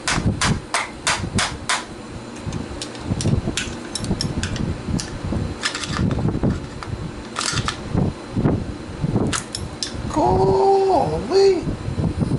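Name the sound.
hammering on a bike part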